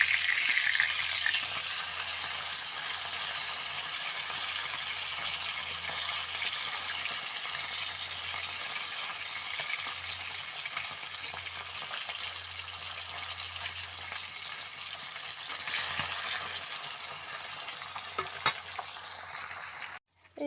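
Fish frying in oil in an iron wok gives a long, even sizzle lasting about twenty seconds, with a couple of brief utensil clinks near the end before it cuts off.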